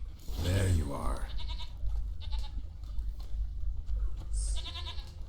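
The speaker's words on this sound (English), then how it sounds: "Here, goat." A goat in The Witcher 3 bleats loudly and nearby in a short quavering call, followed by ambient game noise and clinks, with a second brief bleat near the end.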